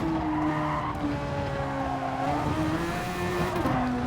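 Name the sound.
car tyres skidding during oversteer in Gran Turismo video game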